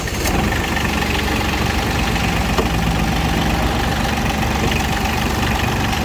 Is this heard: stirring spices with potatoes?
no